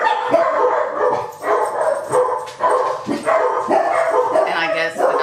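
Dogs bark indoors in a series of loud, close barks and yips, repeating in bursts with a whimper, mixed with someone talking over them.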